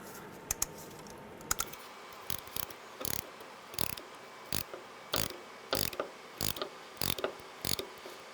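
A C-clamp is screwed down to push the brake caliper piston back on a 2003-2011 Honda Element, making a series of sharp ratcheting clicks and creaks in an irregular rhythm against a quiet background.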